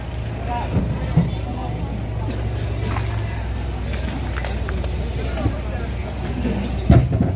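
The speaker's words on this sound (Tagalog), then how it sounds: "Sobrang lakas ng hangin kaya malaki din yung alon dun sa ano, sa laot." Steady roar of strong wind buffeting the microphone by open water, continuous throughout, with a few brief louder gusts and faint thumps.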